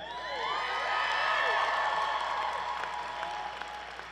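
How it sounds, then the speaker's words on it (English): Graduation audience at Clover Park Technical College breaking into sustained applause mixed with cheers and whoops, a dense crowd wash that swells then holds steady for several seconds. "yes, you can applaud."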